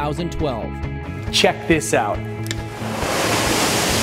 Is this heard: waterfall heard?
yes